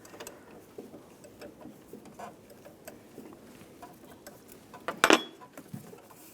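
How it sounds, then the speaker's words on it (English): A 10mm wrench loosening the negative battery terminal on a 2007-2014 Cadillac Escalade, a series of soft rapid ratcheting clicks and small metallic taps, with one louder clank near the end, no talking. "I'm going to use a 10mm wrench, loosen up the negative terminal on the battery."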